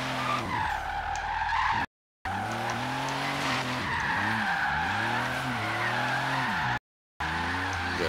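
A tuned drift car in Forza Horizon 3 slides through corners, its engine revving and tires squealing continuously with rising and falling pitch, broken by two brief silent gaps.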